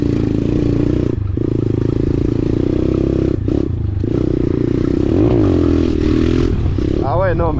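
A motorcycle revs hard and lifts its front wheel in third gear, its loud engine droning steadily with dips as the throttle closes and rises as it pulls again, close and continuous, with someone talking over it.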